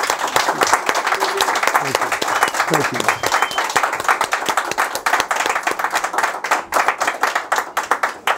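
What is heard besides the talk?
audience applause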